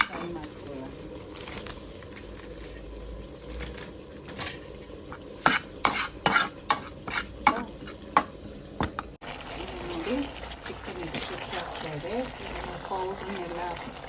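Chicken fries in a pan with kasuri methi, a steady sizzle broken by a run of sharp clinks and scrapes of a spoon stirring, then a louder hiss of frying, with a voice speaking briefly.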